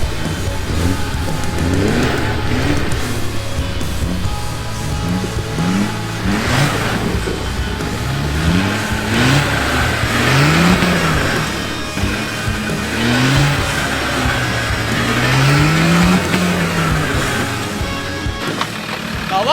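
A car on a rally stage lane in West Wales revs hard and accelerates, its engine note rising and falling in repeated loud surges with tyre and gravel noise throughout.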